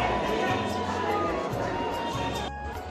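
Dense crowd murmur fills a busy railway station at a ticket counter in Chandausi, India, a constant close wash of many overlapping voices with no single sound standing out.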